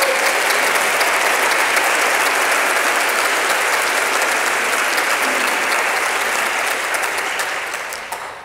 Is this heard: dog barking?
no